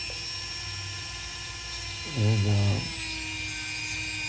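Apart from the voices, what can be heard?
diamond disc on a drill cutting a metal peg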